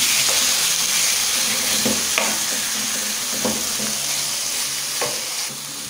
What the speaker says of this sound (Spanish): Luego colocamos nuestro pollo a la sartén.